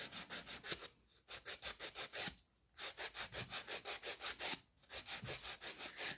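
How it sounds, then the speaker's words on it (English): Dry sandpaper of 180 or 240 grit rubbed over an acrylic nail in quick, even back-and-forth strokes, close and alone, with two short pauses in between. "I use either 180 or I've got a 240 there, just to give it a rub over"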